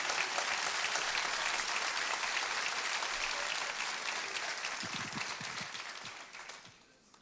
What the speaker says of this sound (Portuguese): Quantos podem aplaudir o nome de Jesus nessa manhã?